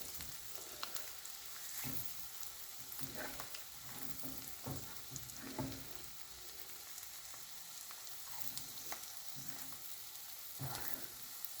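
An egg with masala coating sizzles in a pan after being flipped for egg chaat. The frying is faint and steady, broken by soft scraping and stirring taps, and no one speaks.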